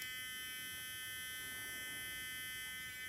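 A dog training collar buzzer drones a steady electronic buzzing tone without pause, thin and continuous with high harmonic whine, no voices present.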